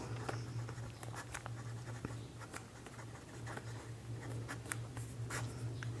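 Pen writing on paper while solving a class 10 coordinate geometry exercise, quiet scratchy strokes in irregular short bursts over a low steady hum, with no talk.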